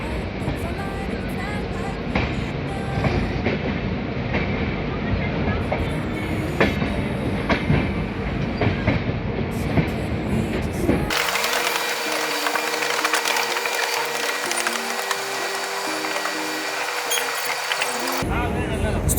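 The Howrah–CSMT Mail (02321) runs at 130 km/h, heard from inside an AC 3-tier coach: a loud, steady rumble with rail clatter, shifting abruptly to a different, hissing tone partway through.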